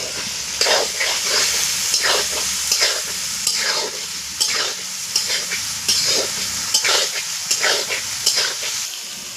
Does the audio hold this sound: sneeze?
no